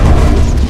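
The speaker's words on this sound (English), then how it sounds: "Fired a grenade into a pipe and the resulting blast set people on fire." Grenade blast from the video game Shadow Complex: a loud, dense low-end boom that fills the whole moment, heavy rumble sustained and then tailing off slightly at the end.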